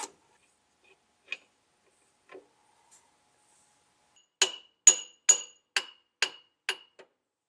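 Ratchet clicking while loosening a driveshaft bolt on a 1999 Jeep WJ, a few scattered clicks followed by a quick run of seven sharp metallic ticks, close and clear with no talking.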